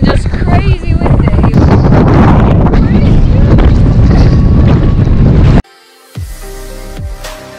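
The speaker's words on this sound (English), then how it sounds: "It is all of a sudden just crazy windy." Strong wind buffets the microphone on a coastal walk between Faversham and Whitstable, a loud roaring rumble for most of the stretch, then it drops suddenly to a quieter scene with a voice speaking.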